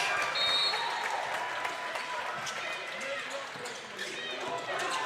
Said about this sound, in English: going to come out to a huge round of applause